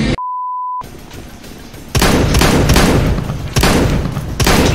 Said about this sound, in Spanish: ¿has visto ese disparo?